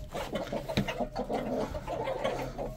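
A hen weakened from laying clucks in soft, repeated bursts close by, with light rustling from the coop in between.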